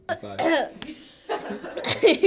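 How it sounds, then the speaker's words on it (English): A few short coughs come close up, mixed with voices and a bit of laughter. "Coughing."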